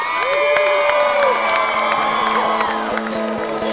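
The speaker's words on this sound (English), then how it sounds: "Will you applaud them at this time?" Wedding guests clap, cheer and whoop for newlyweds Mr. and Ms. Troy Tabb Jr. as they are introduced; lively crowd noise with rising whistles and shouts over music, loud and close.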